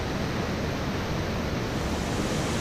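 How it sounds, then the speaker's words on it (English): A steady, dense rush of falling water from a waterfall on a creek in the Columbia River Gorge, continuous and fairly loud with no break or change, heard alone without voices. "Well, that's definitely a sign of waterfall right there."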